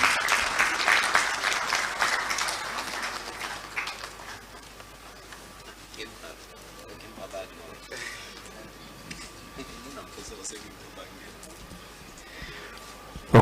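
An audience welcoming the Minister for Information at a law alumni association launch and public lecture gives a burst of applause that fades after a few seconds, leaving quieter room noise with some talking.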